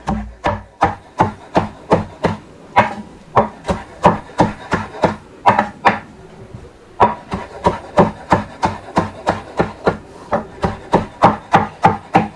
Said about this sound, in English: take me a little bit of cilantro, chop it up.